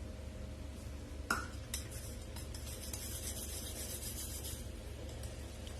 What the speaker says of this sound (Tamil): இந்த அரிசி மாவை இதில் சேர்த்து மிக்ஸ் பண்ணிக்கலாம்